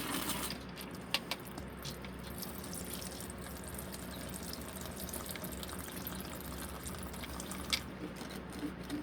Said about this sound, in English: while I fill up your water